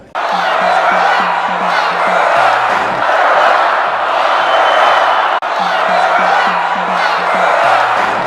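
A political rally crowd chants "lock her up" about Hillary Clinton in a loud, rhythmic, repeated unison, broad roaring voices filling the space with steady beats and a brief break midway before the chant resumes.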